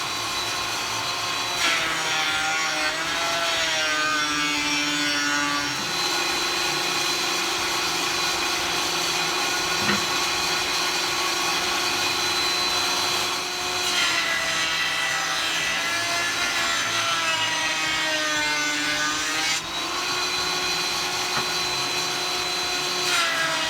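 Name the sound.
jointer flattening a wooden guitar fretboard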